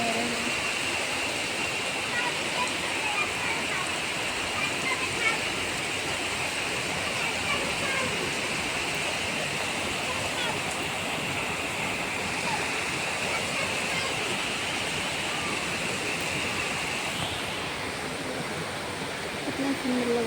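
Heavy monsoon rain pours down in a dense, unbroken hiss, a loud and even broadband roar that runs without pause from start to finish.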